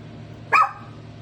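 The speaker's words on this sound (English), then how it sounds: "Little Chewini trying to sound like a Rottweiler" A small dog gives a single short, sharp bark, loud and close, against a steady low background hum.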